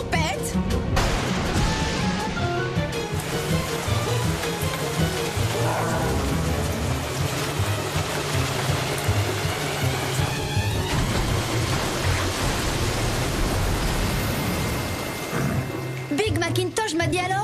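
Steady, dense rain from a storm cloud in an animated cartoon scene, a loud continuous hiss of falling water lasting many seconds with a low rumble underneath and brief bursts of other effects near the start and end.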